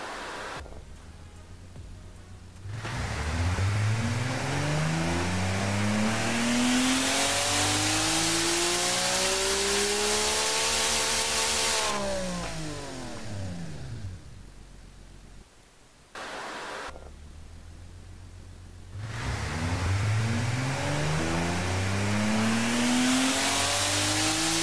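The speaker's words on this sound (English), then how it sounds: "this engine actually sounds pretty good and we're making good power" Inline-six engine on a dyno in the Automation car-building game, revving up in long rising and falling sweeps, loud and steady, with a brief cut before climbing again.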